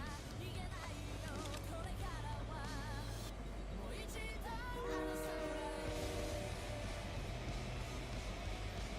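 A train passes in a video game, with a sustained horn-like tone and steady rail rumble heard continuously alongside layered game sounds, fairly quiet overall.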